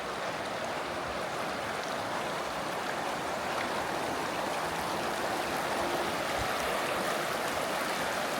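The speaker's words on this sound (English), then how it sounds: "I'll show you guys the creek we're next to here." Wait a Bit Creek runs beside a campsite near the Arrow Lakes, a steady, full-band rush of flowing water that holds close and even for the whole stretch, with no voices over it.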